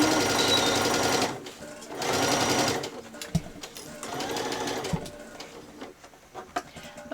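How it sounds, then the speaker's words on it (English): A sewing machine stitches a 5/8 inch seam on a child's dress, running in two loud fast bursts, then carrying on in quieter, more broken stitching with small clicks. "So at the start we're going to do our reverse stitch and then stitch all the way to the end."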